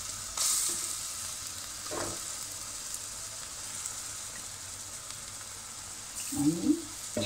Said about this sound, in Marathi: मंद आचेवरच आपल्याला बेसन आणि हा मसाला परतून घ्यायचा आहे, अगदी तेल सुटेपर्यंत.